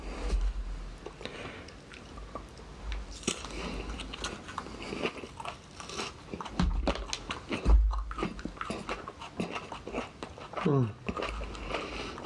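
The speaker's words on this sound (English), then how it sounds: "He's going to take a bite." A person biting into and chewing a very hot pepper, close wet crunches and mastication sounds scattered through the clip, with voices talking in between.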